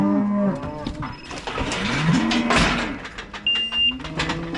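Heifers and calves mooing during weaning in a cattle yard, several long overlapping moos from nearby animals with a few fainter calls and some rattling in the background.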